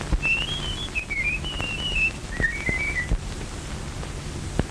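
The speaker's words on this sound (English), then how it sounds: "No two men could ever whistle exactly like that." A man whistles a short, wavering melody, the notes sliding up and down in a few phrases, close and clear over a faint hiss.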